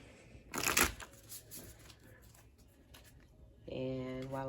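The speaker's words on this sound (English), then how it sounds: "I'm going to go ahead and begin my shuffle." Tarot card deck being shuffled close by in a quick riffle of crisp card flutters, followed by quieter handling, then someone starts talking at the end.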